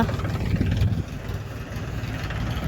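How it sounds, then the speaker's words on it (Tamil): A farm tractor engine on a rural road beside stone-strewn fields, a steady mid-pitched idling rumble that holds fairly constant and close, with a slight dip partway through and no talk. "டிராக்டர் எப்படி வருது பார்த்தீங்களா"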